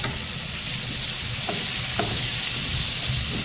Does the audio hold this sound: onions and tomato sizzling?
yes